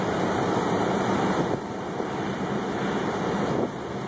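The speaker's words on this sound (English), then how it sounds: "Feel the wind?" Strong, steady wind roars and buffets the microphone during the June 2011 Springfield, Massachusetts tornado. The broadband rush stays loud and continuous for about four seconds, with no talking.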